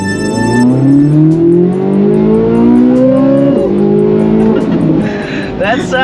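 A Corvette Z06 engine revs up loud and close through climbing gears, its pitch rising steadily, dropping at a shift, then climbing again with a brief squeal near the end.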